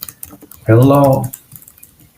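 Computer keyboard keys click in soft, scattered taps while code is typed into VS Code, faint and irregular, briefly covered by a spoken word in the middle.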